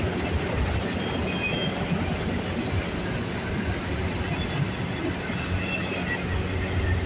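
A train rumbles past Aldershot GO station in Burlington, a steady, loud wash of wheel and rail noise that holds constant from start to finish without any voices.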